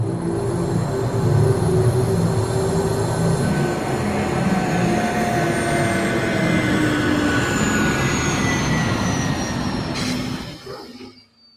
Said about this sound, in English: The noise and downdraft from a hovering shuttlecraft wake the campers.